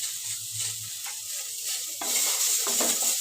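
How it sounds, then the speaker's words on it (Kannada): Tomato and onion are fried in a pan, a continuous bright sizzle with a low hum beneath it that grows louder partway through, with occasional soft spoon movements. "ಟೊಮೆಟೊದ ನೀರೆಲ್ಲ ಸುಡೋವರೆಗೂ ಹುರಿಬೇಕು ನೋಡಿ"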